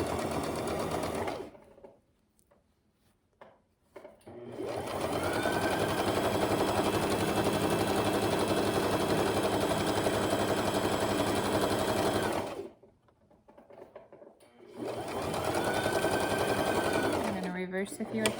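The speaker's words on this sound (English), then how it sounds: "we're able to just sew right over that lump. And again, it could be kind of loud again as we go through all of these layers." A sewing machine stitches through the thick layers of a zipper pouch, running in long loud bursts with brief pauses between them.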